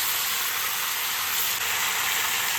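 Panch phoron spices sizzling steadily in hot oil while cooking a radish, beet and potato dish, a dense continuous hiss that holds unbroken, close and fairly loud, with no talking.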